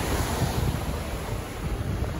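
Sea waves rolling in at Glenelg jetty beach make a steady, close, continuous wash of surf mixed with gusty wind buffeting the microphone; no one speaks.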